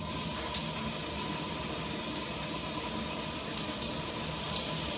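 Steady running water from a shower, a constant broadband hiss with a few brief louder splashes scattered through, close and continuous with no talking.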